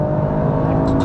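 A Toyota GR Yaris accelerates hard in second gear, its turbocharged engine droning loud and close in a strained, steady roar over a short burst.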